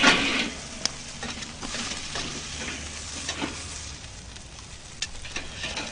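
Meat sears on a charcoal grill with a steady crackling sizzle throughout, broken by a few sharp pops and spatters, close and alone with no voices.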